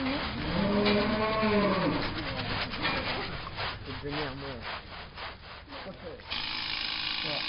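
A cow being groomed for an agricultural high school livestock competition: a low bovine call opens, then a run of rhythmic, close brushing strokes rubs along its coat, with occasional voices nearby.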